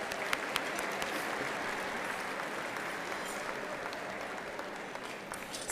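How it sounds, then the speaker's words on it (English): Steady applause from seated guests at tables in a school district event, honouring students; a broad, even wash of many hands clapping at moderate volume throughout. "Let's give a round of applause to the students at each of your tables."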